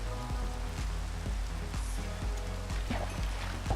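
Steady patter of rain falling in Minecraft, a constant hiss beneath a rhythmic thumping background beat, moderately loud with no speech.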